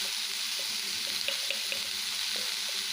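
Bitter gourd with fermented fish fries in a pan as salt goes in, a faint, continuous sizzling hiss with a few small pops and ticks. Nobody speaks.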